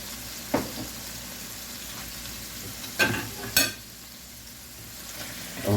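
Onions and green pepper fry on a street-food griddle at a carnival fair, giving a steady low sizzle. A few sharp clanks and scrapes from a spatula stand out over it. No one talks.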